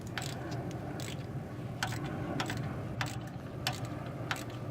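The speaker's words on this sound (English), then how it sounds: "So we're just tightening down this 8th NPT to dash 3 fitting." A wrench works a 1/8 NPT to -3 oil feed fitting into a Precision 6266 gen2 turbo on a Subaru Impreza EJ18, giving faint, regular ratcheting clicks over a steady background hum.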